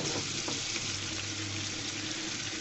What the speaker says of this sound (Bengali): আমি এক এক করে সবগুলো গরম তেলের মধ্যে চিকেনগুলো দিয়ে দিচ্ছি।